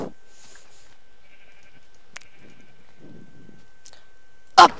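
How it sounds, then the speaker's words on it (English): Sheep bleating in the Minecraft video game: a few faint, scattered bleats over a quiet background, then one short, loud bleat close by at the very end. "I see lots of sheep!"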